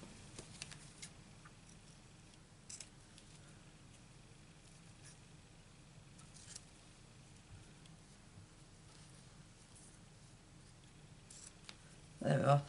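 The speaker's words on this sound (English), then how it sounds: "So let's cut some off." Scissors cut off small bits of material for a papercraft project, with quiet, sparse snips over a faint background and a louder burst of handling noise at the end.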